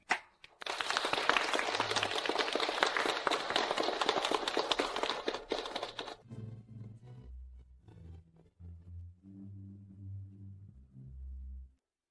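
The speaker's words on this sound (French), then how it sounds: "accueillons-les par une salve d'applaudissements chaleureuse pour la mariée et le marié" A wedding crowd applauds the bride and groom loudly with dense, sustained clapping for several seconds, then it fades out and low music or murmuring continues.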